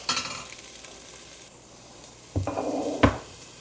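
Spring onion whites fry in oil for a chicken stir fry, giving a close, steady sizzle. It swells twice in short bursts as the pieces are stirred, with one sharp clatter of a utensil against the pan.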